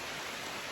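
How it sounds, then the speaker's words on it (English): Steady rain falls in a dense, even hiss with no breaks, heard outdoors at an outdoor shooting setting. "Oh my gosh, listen to that rain."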